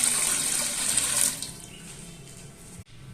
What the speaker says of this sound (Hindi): इसमें हम ये 2 kg पानी शामिल कर रहे हैं